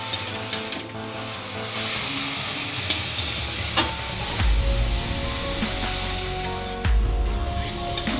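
Kuilekhara greens fry with bori and peanuts in a pan, giving a steady, close hiss of sizzling oil broken by occasional spoon clinks and stirring scrapes.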